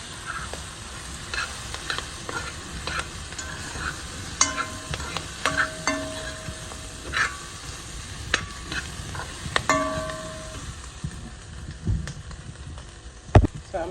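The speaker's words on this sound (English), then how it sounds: "So I'm just stirring it around in the pot" Vegetarian curry stirred in a pot, a soft sizzle under repeated scraping and clinking of a spoon against the pot, with sharper knocks scattered irregularly and no voices.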